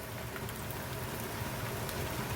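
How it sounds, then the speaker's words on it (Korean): Onions for pork neck duruchigi sizzle steadily in a hot pan while being stirred, a dense, even crackle with no voices. "양파가 익을 정도로 이렇게 저어줍니다"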